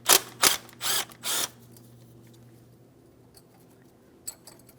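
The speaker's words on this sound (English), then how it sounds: "Just go ahead and remove your 10mm headed mounting bolt." A power tool removes a 10mm mounting bolt from the brake flex hose bracket on a 2007-2014 GMC Sierra 2500 HD, whirring in four short, loud bursts, then a steady low hum and a few faint clicks.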